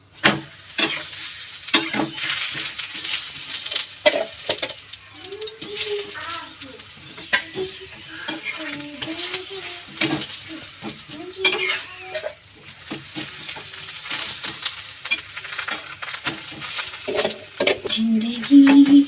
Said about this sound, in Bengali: আমি একসঙ্গে 4টে দিয়ে ভাজছি।